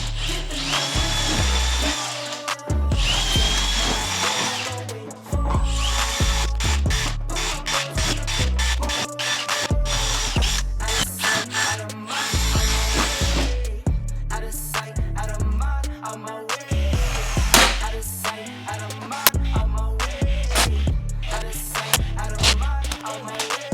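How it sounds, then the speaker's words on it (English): Power drill boring rivet holes in a 2023 Gen5 Turbo R snowmobile, many short bursts of high whirring and grinding separated by pauses, loud and close throughout. "And then we'll drill all these holes for the rivets."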